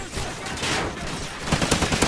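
Gunfire in the Call of Duty: Ghosts multiplayer game, loud rapid shots and bursts through the clip, heaviest in a dense flurry near the end.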